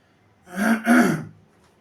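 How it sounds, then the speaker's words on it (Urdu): A single short, harsh throat-clearing cough, close and fairly loud, in an otherwise quiet moment. "معاف کیجیے گا کھانسی آ گئی، گلا خشک ہو گیا"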